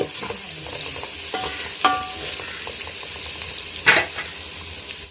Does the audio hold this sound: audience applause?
no